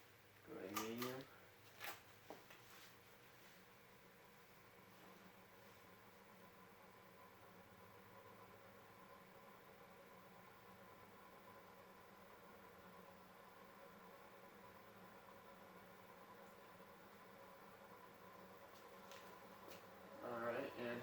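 A Casablanca Delta II ceiling fan runs at medium speed with a steady low hum and faint bearing noise, broken by a few sharp clicks near the start and end.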